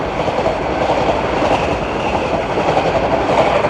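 A Thomas and Friends toy train runs along long model rails at a train exhibition in Pleasanton, California, giving a loud, steady rolling rumble with faint clickety-clack and no voices.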